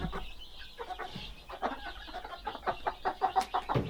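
Backyard chickens in a shed give a run of irregular clucks and short squawks, several birds near and far overlapping with no one speaking.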